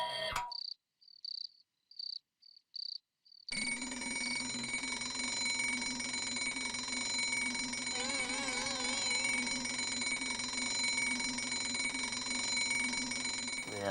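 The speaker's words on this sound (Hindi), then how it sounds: "अलार्म रख के खुद सो रही है।" Two alarm clocks set for an early morning wake-up in a home: a few quick bursts of high electronic beeping, then a loud, continuous ringing trill that runs on steadily without a break.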